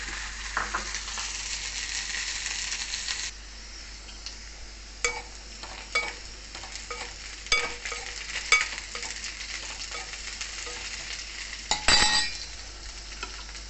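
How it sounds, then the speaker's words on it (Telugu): Onion and green chilli pieces fry in a pan for a tamarind bitter gourd stew, with a steady hiss and sizzle plus repeated scraping stirs and a sharp clink of the utensil near the end. "ఈ ఉల్లిపాయ ముక్కల్ని పచ్చిమిరపాయ ముక్కల్ని కూడా వేసేసి వేయించుకోవాలి"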